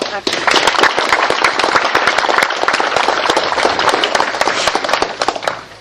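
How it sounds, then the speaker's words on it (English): Loud, dense applause from a crowd at a political fundraiser lunch in Westlake Village, California, many hands clapping steadily for several seconds before starting to thin out. "deserves a hearty round of applause"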